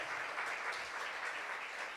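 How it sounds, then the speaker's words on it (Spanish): A church congregation claps hands together during a Sunday worship service, a dense, continuous wash of applause that stays at an even level throughout, with no speech over it. "Dele fuerte esas palmas al Rey de la Gloria."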